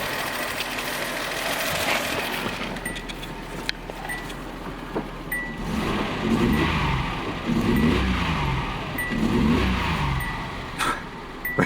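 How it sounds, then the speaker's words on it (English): A six-cylinder engine in a Nissan Z car idles steadily, then revs up in a series of rising and falling throttle blips, heard up close. "I think it might even be firing on all 6. I think it's running smooth."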